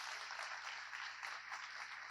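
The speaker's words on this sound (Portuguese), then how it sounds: "E se a gente puder dar uma salva de palmas para esse pessoal do coach" An audience at a talk on STEAM education in Brazil applauds, a brief, faint, steady patter of many hands clapping.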